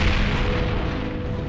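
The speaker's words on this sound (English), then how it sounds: "they brought up artillery" Cartoon artillery fire at the Battle of Bunker Hill rumbles as a dense, continuous low booming barrage, heavy and sustained with no clear gaps.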